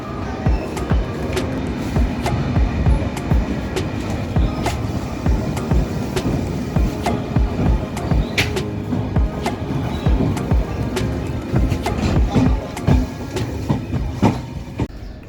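An AC three-tier passenger train bound for Varanasi Junction rumbles loudly and continuously, with repeated clattering wheel clicks over the tracks.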